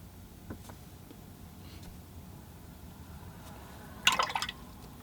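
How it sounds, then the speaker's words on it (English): A paintbrush is rinsed in a water container while painting a winter landscape, giving a few faint drips early and a short, brighter burst of swishing and splashing near the end against a quiet background. "I just rinse my brush"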